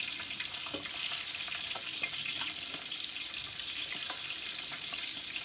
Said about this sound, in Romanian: Și o prăjesc.